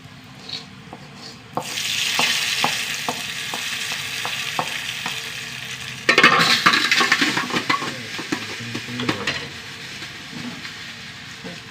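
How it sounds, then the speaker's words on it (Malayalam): Curry leaves and dried red chillies tempering in hot oil, a steady sizzle and crackle that swells partway through, with a utensil stirring and knocking against the pan, close by. "കുറച്ച് കറിവേപ്പില താളി ചൂടായി വന്നു ഓഫാക്കിട്ടാ"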